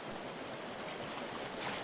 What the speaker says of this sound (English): As Krishna splashes in the lake